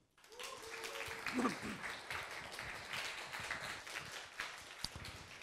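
Audience applause at a lecture hall talk, a sustained round of clapping from a crowd that builds quickly and carries on for several seconds, with a few voices and shouts mixed in.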